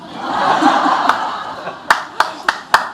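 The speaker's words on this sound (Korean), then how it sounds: "박수가 다 나오네" An audience at a Buddhist lecture claps as a monk speaks, first a soft scattered patter under his voice, then several sharp, separate claps near the end with some chuckling.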